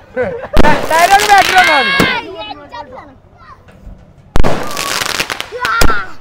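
Sharp bangs from a 60-shot firecracker barrage burst in two loud volleys with whistling crackles between them, and a lull of quieter popping in the middle.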